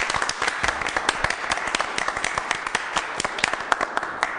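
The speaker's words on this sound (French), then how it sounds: "Je suis la seule à applaudir, vous criez là." Audience applause mixed with shouting and cheering fills the space, a dense, steady patter of many hands with sharp individual claps standing out throughout.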